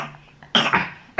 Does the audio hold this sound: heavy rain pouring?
no